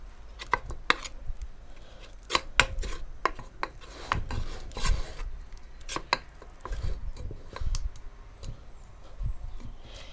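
Soft scraping and rubbing strokes of butter being spread with a spoon across the bottom of a metal pot, irregular and close, with light taps in between.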